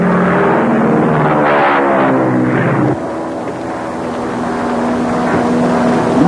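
Propeller aircraft climbing and gaining altitude, a loud droning engine hum with steady tonal throb that shifts and dips partway through, then carries on evenly.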